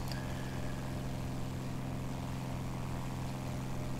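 Steady drone of twin piston engines and propellers on an F-82E Twin Mustang in flight in War Thunder, a constant unbroken hum throughout with no talk.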